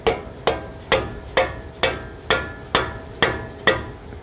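Sharp metallic hammer blows strike a vehicle axle on an FJ Cruiser about every half second, ten evenly spaced loud clanks ringing close up with no talk.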